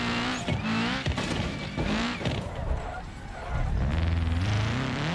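A car engine in the driving game BeamNG Drive revs hard, its pitch climbing and dropping several times in loud, close surges, with a brief squeal of tires near the end.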